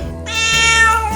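A tired cat lets out one drawn-out meow, close and clear, rising and then tapering over about a second against a low background hum.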